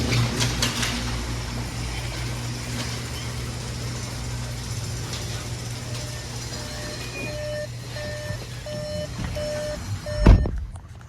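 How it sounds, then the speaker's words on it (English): A 2021 Volkswagen Atlas 2.0T 4Motion SE sounds a repeating warning chime with the door open and key in pocket, evenly spaced beeps over a low idling hum in a garage, ending with a brief thump. "It's beeping because I have the key in my pocket and I left the door open."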